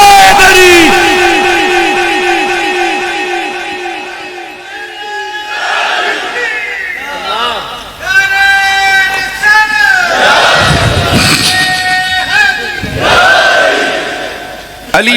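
A large religious gathering chants Naara-e-Haidari in loud, repeated call-and-response waves, a leader's voice followed by massed roaring replies that swell and break several times.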